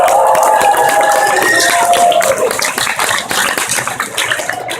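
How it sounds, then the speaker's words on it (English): Convention crowd at Marble City Comicon 2015 applauding the staff, loud dense clapping with a few whoops and cheers, fading slightly toward the end. "how about a really loud applause and thank you to the staff for Marble City Comicon"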